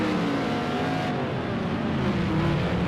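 A race car engine from Project Cars 2 roars steadily in a Group C race at the A1 Ring, loud and continuous with a slight shift in pitch.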